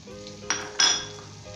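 Onion, garlic and spices fry in a pot for jollof rice, a soft steady sizzle broken by two brief scraping stirs of a utensil against the pot, close and fairly quiet.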